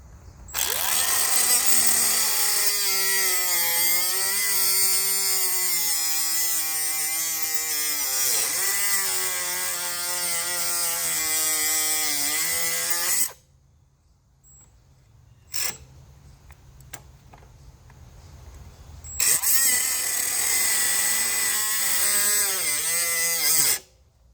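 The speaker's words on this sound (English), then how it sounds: "And I'm just cutting the engine bolt in half" Cordless battery-powered cutting tool slicing through a steel engine bolt on a 1987 Kawasaki KE100, a loud steady whine with shifting pitch for about 13 seconds, a pause with faint handling noise, then a final loud cutting burst.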